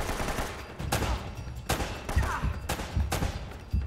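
Gunfire in the Uncharted video game: a steady run of loud, sharp shots in a rough rhythm, roughly one to two per second, over a dense background of game noise.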